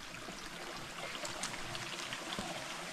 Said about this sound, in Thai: อยู่ข้างน้ำไหลนี่ทุกคนเลย